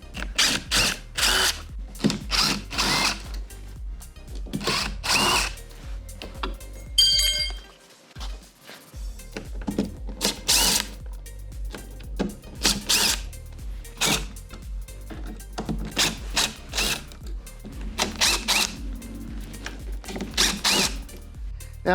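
A cordless drill backs Phillips head screws out of the corner brackets on a wooden shipping crate for a fiber laser, repeated whirring bursts with clinks of metal between them, close and loud; no talk.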